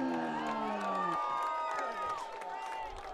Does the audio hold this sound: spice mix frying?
no